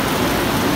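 Steady rain from a passing storm pours down over an outdoor flea market, a dense, even hiss of drops on surfaces, loud and continuous with no voices.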